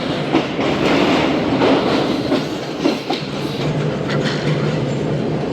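The Shalimar Express rolls along the rails toward Rahim Yar Khan station, a loud continuous rumble with rhythmic clickety-clack from the wheels and brief metallic squeals, heard from inside the moving train with no talking.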